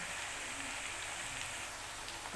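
Minced meat with peas fries in a pan for matar keema, making a dense, even, close hissing sizzle that holds steady throughout with no talk.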